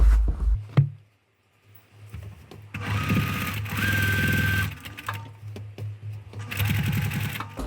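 A sewing machine stitches quilt pieces in several bursts of rapid, even needle chatter with a steady motor hum, separated by short pauses and a brief clunk near the start.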